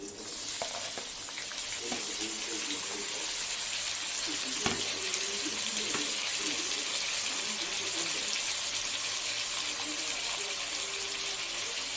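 Vegetables including potato and carrot are added to a frying pan of browned onion and chili, giving a steady sizzling hiss with stirring clatter and occasional knocks, fairly faint, while a voice talks underneath.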